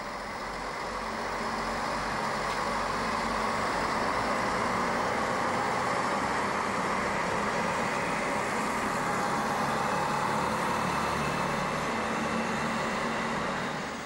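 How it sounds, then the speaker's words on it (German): Regio-Shuttle diesel railcar pulling out of Chemnitz main station, a steady engine drone and broad rumble that swells gently and holds at moderate distance, with no voices. "Wenig später ist der Regio-Shuttle wieder auf dem Weg, daneben der Triebwagen nach Hainichen."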